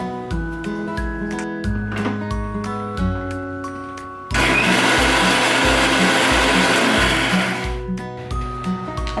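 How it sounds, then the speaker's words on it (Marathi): A kitchen mixer grinder blends peanuts, green chillies and garlic with a little water, starting with short bursts, then running in a loud continuous whir for several seconds before pulsing again. "आणि मिक्सरला बारीक करून घेऊया"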